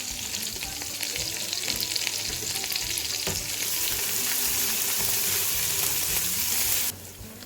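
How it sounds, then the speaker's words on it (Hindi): Steady, loud sizzling of garlic and ginger paste frying in hot oil, with occasional stirring scrapes; the sizzle cuts off sharply near the end. "लहसुन अदरक को भी फ्राई किया है, देखिए।"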